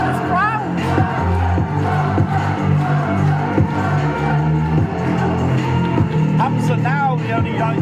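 Wrestling crowd cheering at the end of a UK Wrestling main event, a loud roar of shouts and whoops under a commentator's voice, with chants rising and falling throughout.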